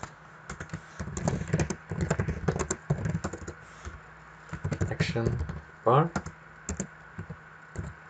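Computer keyboard keys tapped in quick, irregular bursts while writing Android Java code, close and clear, with someone talking over much of the typing.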